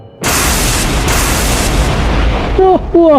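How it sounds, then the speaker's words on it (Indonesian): Loud electric explosion effect from a massive golden lightning strike hitting the centre of an arena, a sustained crackling noise burst followed by sharp descending zaps near the end. "Ledakan listrik menghantam seluruh area tengah arena."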